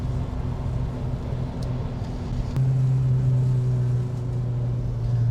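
A Porsche 944 cruises along on cruise control with a steady, low engine drone and road hum inside the cabin, the tone stepping up slightly partway through and holding even.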